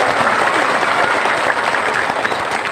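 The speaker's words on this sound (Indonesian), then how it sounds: "Tepuk tangan untuk Indramayu" A crowd applauds loudly and continuously for Indramayu, a dense, close wash of clapping throughout the short stretch.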